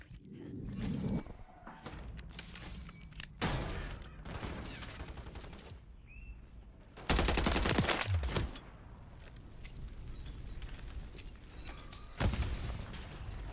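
Gunfire in Call of Duty MW3 with a remote turret, rapid automatic bursts and scattered shots at moderate distance, a loud sustained volley in the middle, with mechanical clatter between bursts.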